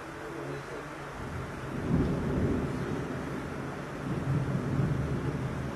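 Thunder rumbles low and heavy through steady rain over Manila, rising in two broad swells around the second and fifth seconds with no voices present.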